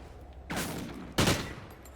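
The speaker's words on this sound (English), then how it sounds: "I don't know why they're shooting me in the back." Two separate bursts of gunfire in a Call of Duty match, each a short loud blast about half a second apart, with quiet gaps around them and no talk.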